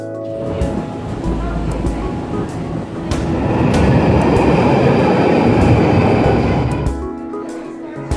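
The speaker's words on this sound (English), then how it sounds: "Going on the train." A London train runs along the rails with a loud, continuous rumble and rattle that swells in the middle, with people talking nearby over the noise.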